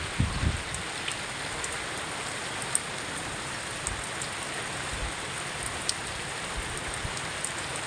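Steady rain falls at a fish pond during Typhoon Ramil, a continuous broadband hiss of drops with faint scattered ticks and no voices throughout.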